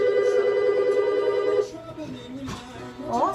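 A telephone rings with a steady tonal trill indoors, cutting off partway; afterward faint voices and clattering household sounds follow.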